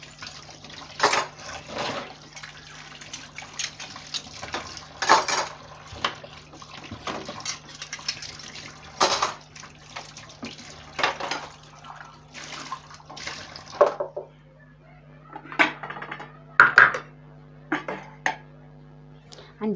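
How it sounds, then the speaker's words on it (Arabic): Running tap water splashing over spoons as they are washed at a kitchen sink, with intermittent scraping and clinking bursts over a steady low hum and a few quieter drips near the end. "نشطب بقى المعالق بقى بالمره بتاعتنا كده"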